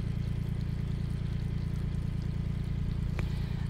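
A heavy tractor engine idles with a steady low rumble throughout, close and constant, with a brief faint tick near the end.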